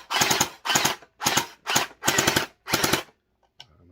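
An SB400 gel blaster fires in six short bursts of rapid, crackling shots separated by brief pauses, close and loud, followed by a faint click near the end.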